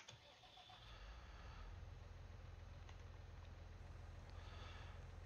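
A tractor engine in Farming Simulator 19 starts up and settles into a steady, low, rumbling idle that holds at an even level for several seconds.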